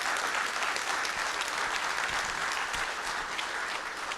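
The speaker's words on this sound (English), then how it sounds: "let's all applaud each other" A GIS forum audience applauding, a dense, sustained burst of many hands clapping at fairly constant loudness for the whole stretch.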